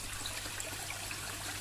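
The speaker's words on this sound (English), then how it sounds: "where you're thinning the water out into a very thin film and moving it across a serrated rock surface" A pond water feature spreads a thin film of water over serrated rock, producing a faint, steady trickle and babble with no other sounds.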